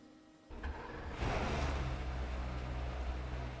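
A virtual car's engine in Assetto Corsa cranks and fires up, then settles into a steady low idle rumble, fairly quiet and alone with no voices.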